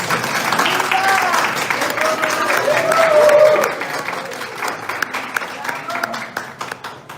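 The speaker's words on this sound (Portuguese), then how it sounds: "Uma salva de palmas." Round of applause at a literary academy ceremony, dense clapping from an audience, steady then tapering off, with voices talking faintly underneath.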